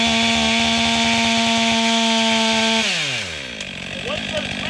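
A Stihl MS 500i wrap-handle chainsaw cuts into a huge white oak log. The engine drones loud and steady at high revs with a harsh cutting rasp, then its pitch drops as the throttle eases near the end.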